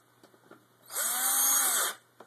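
A power drill drives screws into an Xbox 360 case, giving one loud whirring burst of about a second between quiet clicks and handling noises.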